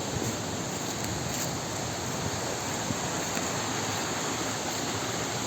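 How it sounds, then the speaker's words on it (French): A river current flowing along a trout-fishing stream, a steady, dense rush of water that stays constant and close throughout with no voices. "Ça fait une rivière comme ça tout le long."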